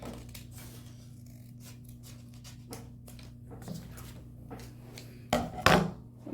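Scissors snip through paper while cutting out bunny ears for a craft, with a series of soft, quiet cuts ending in two louder, sharper snips near the end. A low steady hum sits underneath, and nobody speaks.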